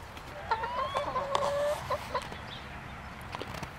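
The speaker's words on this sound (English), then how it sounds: "Hungry, hungry chickens." Hungry backyard chickens cluck in short, scattered bursts at close range near a fence on a foggy morning, with no talking.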